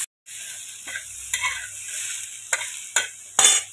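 Cooked amaranth greens tipped into a hot pan with crushed garlic sizzle steadily at close range, while a spoon scrapes and clicks against the pan in several sharp strokes.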